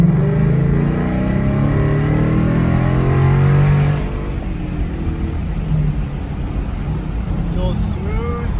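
An electric GT car with a recently modified motor accelerates while driving, a steady engine drone with rising harmonic whine, loud and close, easing off after about four seconds into a lower road hum.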